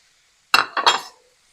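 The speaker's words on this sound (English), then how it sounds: "even it out around the pan and kind of break it up a little bit to start" Ground meat being broken up in a pan over high heat, heard as two short clinking, scraping clusters of a utensil against the pan, close and fairly loud, with no talk.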